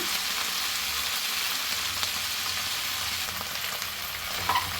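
Steady, close sizzling and crackling of chennangi leaves frying in a hot pan for chutney as their water cooks off, continuous throughout with no voices.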